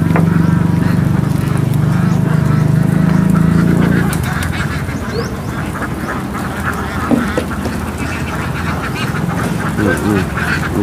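A huge flock of ducks, thousands strong, runs across a rice field back to its pen, producing loud, dense, continuous quacking from many birds at once that softens slightly partway through.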